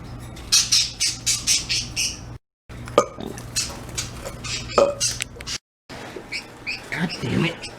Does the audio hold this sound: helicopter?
no